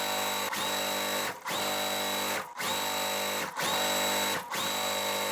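A sewing machine stitches quilt block fabric pieces together in steady whirring runs, pausing briefly about every second, close and loud with no talking.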